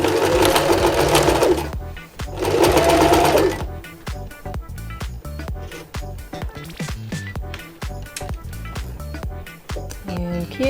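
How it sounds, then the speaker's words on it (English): A sewing machine back stitching a seam on a buff scarf runs in two loud, steady whirring bursts, followed by a quieter stretch of slow, uneven stitching clicks. "So we're going to make sure that we back stitch our seam here."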